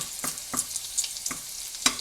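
Oil sizzles and spits in a pan around a bacon burger patty, with a few sharp crackles and pops over a soft, continuous frying hiss.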